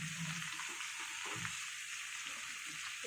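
Brinjal and other vegetables fry in a kadai, a soft steady sizzle broken by a few close scraping stirs of the spoon, with no voices.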